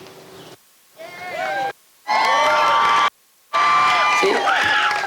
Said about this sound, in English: They've been screaming the whole day and they missed the cue